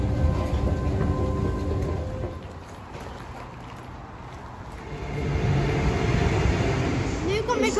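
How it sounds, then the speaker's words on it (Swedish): A train pulls into a station on the route toward Eskilstuna, a steady low rumble and rail noise that eases in the middle and then swells again as the carriages roll in close by. "Nu kommer tåget till Eskilstuna."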